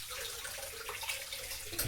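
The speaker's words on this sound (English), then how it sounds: "All right, now I got warm water right now, just to rinse this one off." Warm tap water runs steadily from a faucet to rinse a Rockwell 6C adjustable safety razor, a close, continuous hiss and splash with light shifts as the razor passes through the stream.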